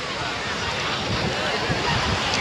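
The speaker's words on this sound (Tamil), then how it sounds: "காற்று நல்லா கடல்லேருந்து அப்படி காற்று அடிக்க இயற்கையாக இருக்குது" Sea wind blowing steadily off the water at Tiruchendur beach, a continuous broadband rush with surf mixed in, close and fairly loud, with no talk during it.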